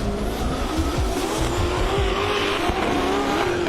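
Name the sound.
drift car with supercharged LS engine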